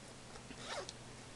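A bag zipper being drawn open, a single short rasping pull that is close and quiet, heard alone without voices.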